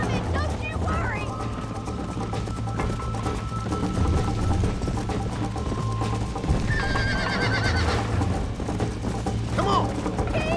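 In the video game Red Dead Redemption, a horse neighs and whinnies over steady clip-clop hoofbeats of a gallop. Voices talk under the busy game sound throughout.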